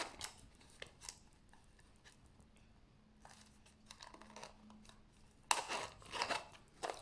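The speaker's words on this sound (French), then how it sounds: "On ferme la fermeture éclair," A zipper is pulled shut on a fabric pencil case made with plastic bottle bottoms, giving quiet, scratchy rasps and small clicks, then a louder burst of rasping toward the end.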